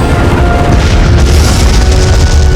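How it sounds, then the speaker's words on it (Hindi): Cannons in a historical Indian drama about Maharana Pratap fire as a continuous, loud, dense roar of booming blasts that fills the scene without pause, with no speech over it. "देखिए कैसे आग उगल रही हैं अकबर की तोपें"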